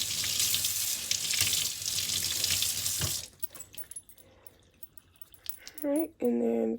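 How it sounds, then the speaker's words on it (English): Tap water runs steadily into a sink while a makeup brush is rinsed back and forth under it, a loud continuous splash that cuts off, followed by quieter handling sounds and brief tonal bits. "When I rinse it, I just go back and forth with it."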